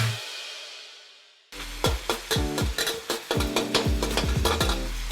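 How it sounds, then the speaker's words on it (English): Bacon browning in a pan while being stirred, with sizzling and repeated clatters of a utensil against the pan that come near and loud after a brief quiet start. "So let's get this bacon browning"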